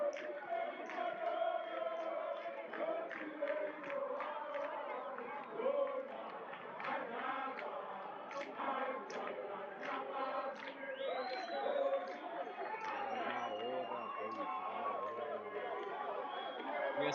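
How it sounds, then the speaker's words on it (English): A Zimbabwean crowd at an under-20 rugby match between the Junior Sables Select and the Outback Barbarians cheers and shouts at a distance, many overlapping voices rising and falling, fairly faint throughout. "the Zimbabwean crowd elated as they look to get into voice here"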